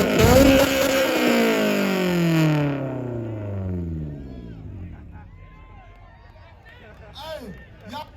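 A 2004 Honda S2000 exhaust revs loudly at a car meet exhaust contest, a strong rising-then-falling engine sweep that fades over several seconds, with crowd voices around it.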